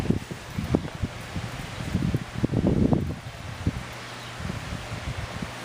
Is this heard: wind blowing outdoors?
yes